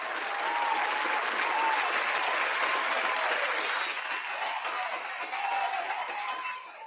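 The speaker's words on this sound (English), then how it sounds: "So round of applause to everybody out there again." A round of applause plays on a sports talk show, a broad, steady patter of many hands with a few faint chuckles mixed in, fairly quiet and evenly sustained throughout.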